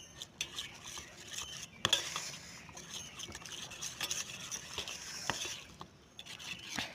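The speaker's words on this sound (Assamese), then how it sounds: "পিছত অলপ মানে পানী দি এনেকৈ মিক্সাৰ কৰিম।" Cauliflower pakora batter being stirred with a little added water in a bowl, soft wet scraping and clinks of a spoon against the dish, quiet and close, with one sharper knock partway through.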